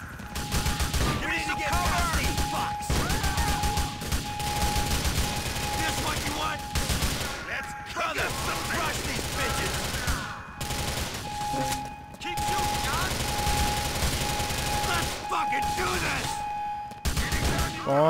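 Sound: gunfire in a video game

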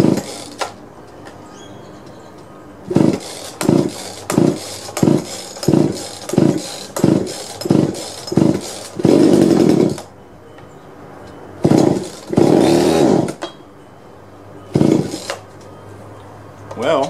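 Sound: junked chainsaw engine running

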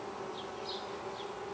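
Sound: honey bees at an open beehive

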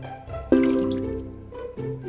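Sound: water being poured in, from the video game Cooking Academy 3

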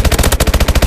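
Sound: machine gun fire in Call of Duty Advanced Warfare video game

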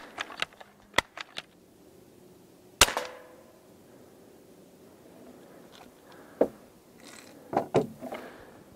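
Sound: Modified Crosman 760 air rifle shots

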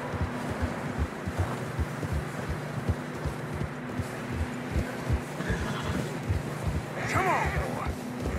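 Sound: horses in video game Red Dead Redemption 2

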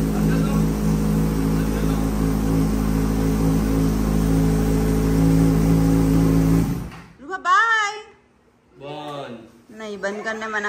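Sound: car engine running

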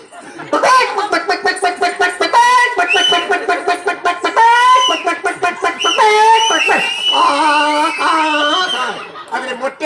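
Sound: voice imitating hen clucking after laying egg

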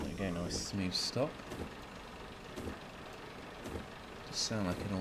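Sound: Class 121 bubble car engine in Train Simulator Classic video game

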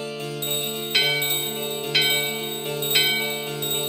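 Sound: bell ringing in a store in the video game Final Fantasy IX

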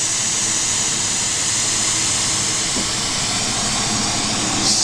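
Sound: glassworking torch hissing with added oxygen, boiling glass color

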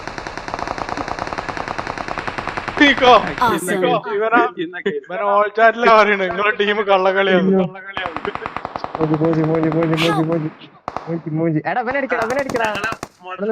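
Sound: gunfire in the video game BGMI

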